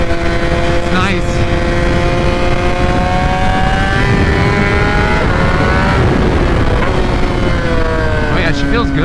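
Kawasaki ZX-10 sport bike engine on the road, loud whining tone that drops as the throttle is rolled off and climbs again when reopened, under constant wind roar.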